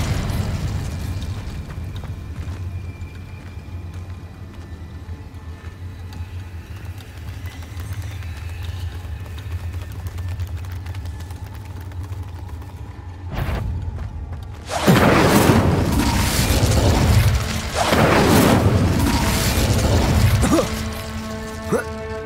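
An Incendio fire spell cast in Hogwarts Legacy, a sudden loud whooshing burst of flame after a quiet ambient stretch, crackling and roaring for several seconds before fading.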